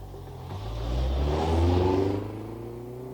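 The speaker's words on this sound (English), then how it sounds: "the family at the end of the lane getting into the car to go to town" A family car pulls away down a country lane, its engine revving up and swelling to a peak before easing off, fairly close and heard alone.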